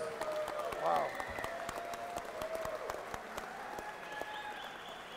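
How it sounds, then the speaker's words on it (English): Boxing arena crowd at the Paramount applauding both fighters after a ten-round bout, a faint distant patter of clapping beneath a ring announcer's amplified voice and other crowd murmur. "let's get a nice round of applause out here for both of these fighters"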